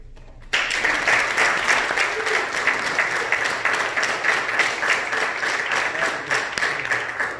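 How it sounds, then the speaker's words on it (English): An audience at a church graduation commencement breaks into applause that starts abruptly and continues as steady, evenly paced patty-cake clapping, fairly loud and close for several seconds. "you all gave that patty cake clap like that was okay"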